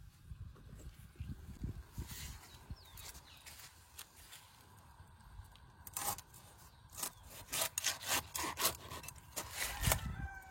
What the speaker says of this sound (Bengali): আমি ততক্ষণ মাছটা কেটে নিই।